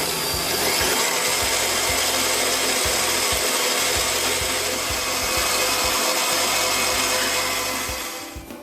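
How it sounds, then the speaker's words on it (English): An electric mixer beats two egg whites in a bowl toward a foamy, fluffy texture, giving a steady, loud whirring drone that holds for several seconds, then tapers off at the end. "Now you want to whisk this or beat this until the egg white becomes foamy"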